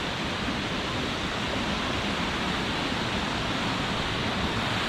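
Steady, dense roar of a flowing waterfall heard from its foot near Perth, constant and loud with no break across the whole stretch.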